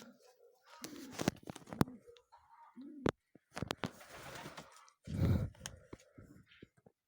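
Pigeons in a loft coo in low, throaty bursts with wing flutters and rustling, close and intermittent, while a person speaks briefly nearby.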